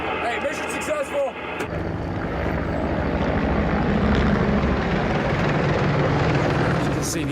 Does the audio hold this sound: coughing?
no